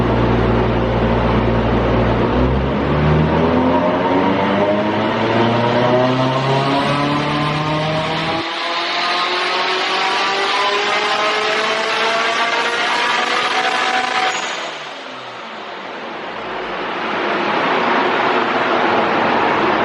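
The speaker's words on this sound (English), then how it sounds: "I'll put a dyno clip in now." A 520-horsepower car engine revs hard on a dyno, its loud, rising drone climbing steadily for several seconds, holding high, then easing off as the run winds down, with no voices.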